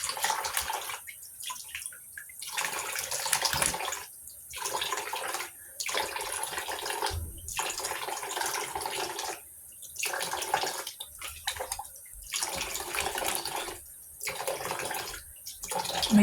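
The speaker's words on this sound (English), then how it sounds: "grab some water, splash it on your face to get all the foaming cleanser off" Water splashed onto a face by hand to rinse off foaming cleanser, in repeated short bursts of splashing and dripping close by, separated by brief pauses, with a steady tap running underneath.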